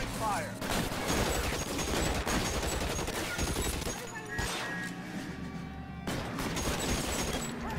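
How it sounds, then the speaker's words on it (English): Tommy gun fire in the 1940s detective game LA Noire, dense rattling bursts with crashes and impacts throughout, close and continuous, with a voice speaking over it. "I'm under fire and picking my weapon here. Tommy gun seems nice."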